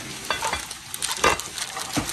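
Bhutuwa, a fried meat dish, cooking in a pan, with an uneven sizzle broken by several louder bursts of spitting and stirring across a short stretch, close and fairly loud.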